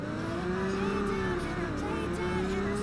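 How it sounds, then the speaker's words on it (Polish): A Ferrari engine in the racing game Test Drive Unlimited drones steadily and loudly throughout, its pitch sliding slightly as the car cruises, with faint tire noise underneath. "No ale teraz jeszcze jedziemy Ferrari"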